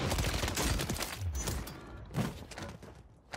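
Rapid game gunfire from Warzone 3 on Rebirth Island, likely an MP5, crackles in a dense burst through the first half, then thins to a few scattered thuds and shots toward the end.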